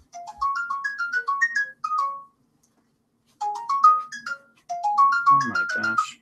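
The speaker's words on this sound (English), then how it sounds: "now my cell phone's going off" A cell phone ringtone goes off nearby: a bright, melodic electronic tune plays one phrase, stops briefly, then repeats louder, with no one talking over it.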